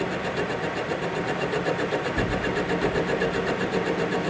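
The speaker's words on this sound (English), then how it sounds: "So that chattering you hear is basically it's coming around and it's hitting that tool." A lathe tool chattering against an uneven bolt head during a facing cut, a rapid repetitive rattling over steady machine hum, with a heavier thump partway through, close and continuous.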